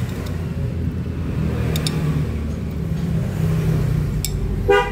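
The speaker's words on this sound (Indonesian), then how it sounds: "alhamdulillah suara motornya sangat halus sangat halus kembali" A Yamaha Jupiter Z motorcycle engine idles smoothly after a crankshaft and bearing replacement, a steady low close-up hum with a brief rattle near the end.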